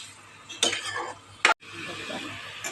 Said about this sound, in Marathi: गॅस फास्ट करून चांगलं ढवळायचं